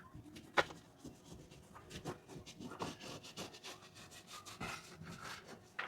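A brush scrubs the roof of a Sprinter campervan in short, uneven rasping strokes with a faint, close texture and brief knocks, no voices present.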